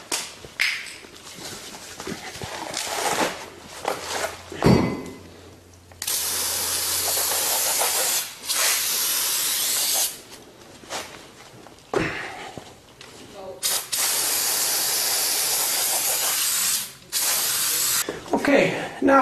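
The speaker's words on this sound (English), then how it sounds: "So for this, we spray it with brake clean." Brake cleaner aerosol hisses in several long bursts, loud and close, separated by short pauses with brief clicks and handling noises.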